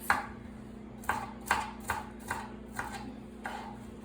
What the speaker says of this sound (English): So I chop all my onions